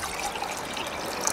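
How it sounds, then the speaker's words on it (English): Water pours into a small pot aboard a small boat, a close, continuous trickling splash lasting about a second with no talk over it. "Let's just measure out the amount of water I need in my little pot."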